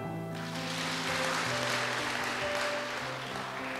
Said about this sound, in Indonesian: Yang setuju berikan tepuk tangan.